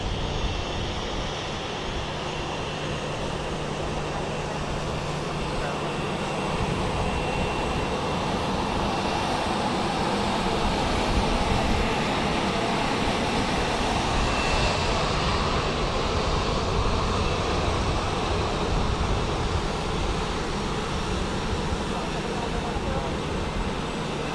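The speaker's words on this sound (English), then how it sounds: "And another 737 MAX 8 landing." A Boeing 737 MAX 8 landing at Dallas Love Field, a loud continuous jet roar and rushing wind noise that holds steady throughout, heard from the airfield's edge.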